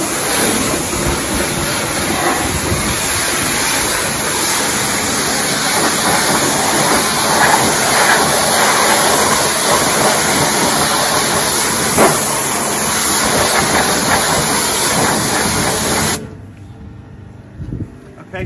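A hot pressure washer rinses a vehicle, giving a loud, continuous hissing spray that runs steadily and close before cutting off abruptly near the end.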